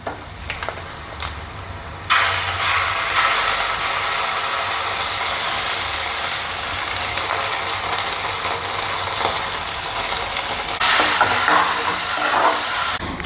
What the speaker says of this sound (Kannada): ಶುಂಠಿ ಬೆಳ್ಳುಳ್ಳಿ ಪೇಸ್ಟು, ಅದರಲ್ಲಿ ಹಸಿ ವಾಸನೆ ಇರುತ್ತಲ್ವ, ಅದು ಹೋಗೋವರೆಗೂ ಫ್ರೈ ಮಾಡಿಕೊಂಡೆ